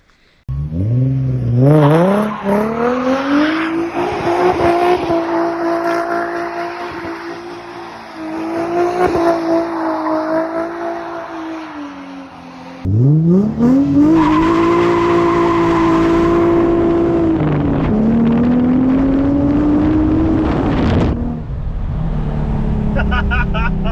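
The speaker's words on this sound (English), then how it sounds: "We love to spin the tires. This is what these cars are all made for. That rear wheel right there, spinning." A Nissan 350Z spins its rear tires. The engine revs hard and climbs repeatedly, with sustained tire squeal over loud engine drone. The sound is close and continuous, dipping briefly before surging again.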